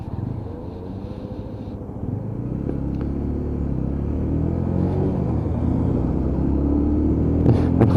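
UM Renegade Commando Classic motorcycle being ridden on the road, a steady low engine rumble that builds gradually, with a slight rise in revs near the end and no talking.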